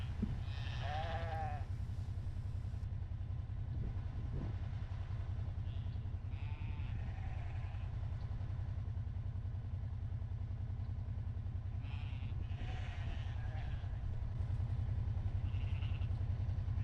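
A sheep bleats on a farm, where a ewe has just had a new lamb, with a clear bleat near the start and softer calls later over a steady low engine-like hum.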